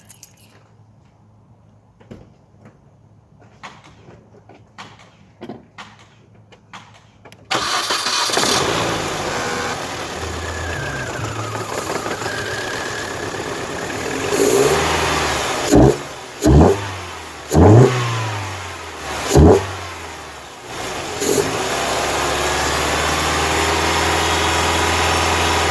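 After an oil change, a Mini Cooper engine is started following a few faint clicks and key rattles. It catches with a loud burst and then idles, with several sharp revs rising and falling before it settles into a steady idle.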